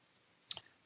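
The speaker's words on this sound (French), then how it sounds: "entrée avec le clavier" A single sharp key press on a computer keyboard, the Enter key struck while filling spreadsheet cells, a short bright click with a brief rattle after, close and alone in a quiet room.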